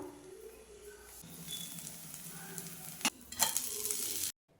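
A dosa cooking in oil under a lid on a hot pan, a soft steady sizzle with a couple of brief crackling bursts before it cuts to silence.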